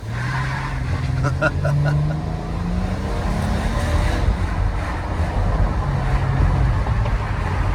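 A 2013 Chrysler Town & Country van with a 6-speed automatic gearbox, driven from inside the cabin: a loud steady engine and road drone whose pitch climbs and drops as the transmission shifts gears.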